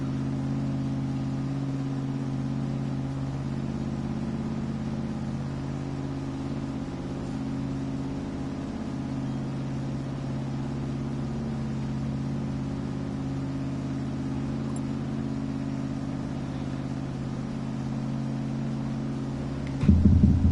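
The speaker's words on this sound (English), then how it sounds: "We're gonna go with this engine noise over the other engine" Race car engine in GT Sport on a Nürburgring 300K endurance event, a steady sustained mid-pitched drone held at an even level throughout, ending with a brief louder burst at the very end.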